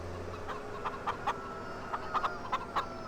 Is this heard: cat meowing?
no